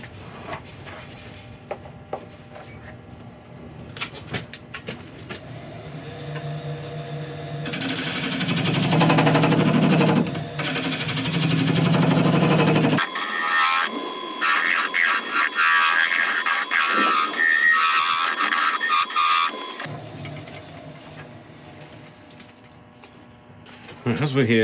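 A wood lathe turns an aluminium piece while a tool cuts into it, giving a rough, chattering scrape that rises into loud, sustained grinding and harsh cutting, then eases back to a quieter hum of the spinning lathe.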